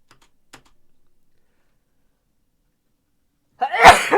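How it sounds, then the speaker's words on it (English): A single loud, close sneeze bursts out after a few faint keyboard taps and near silence. "Sorry. I'm sneezing"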